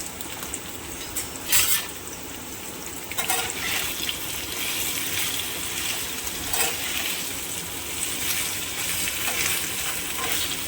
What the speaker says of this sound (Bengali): এবার পনিরটা একটু ভেজে নেব।